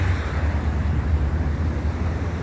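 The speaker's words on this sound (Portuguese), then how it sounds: "Os carros estão passando." Steady rumble of cars passing on a road at a bridge over the Tietê river, heard from the riverbank as a continuous low traffic roar without distinct individual passes.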